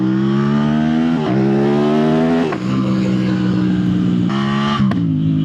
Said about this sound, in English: Like, listen to that pop, dude. It's so loud.